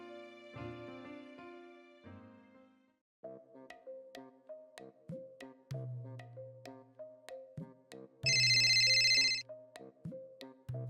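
A melodic phone ringtone plays a repeating tune, with sharp percussive beats and a burst of bright chiming near the end.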